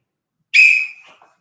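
A single sharp, shrill whistle blast during a martial arts class rings out after a moment of silence, then quickly fades with a brief trailing echo.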